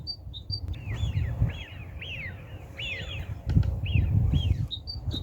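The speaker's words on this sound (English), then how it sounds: "There might be young seagulls." Several young gulls give squealing, rising-and-falling calls in repeated bursts, moderately near, over a steady low outdoor rumble with no talking.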